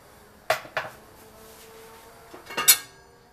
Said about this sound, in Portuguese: Vamos tampar a nossa panela.